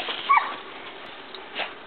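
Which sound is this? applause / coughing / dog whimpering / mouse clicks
dog whimpering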